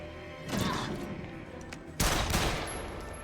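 Gunfire in The Evil Within 2, heard as two loud bursts of shots, the second hitting harder and then trailing off.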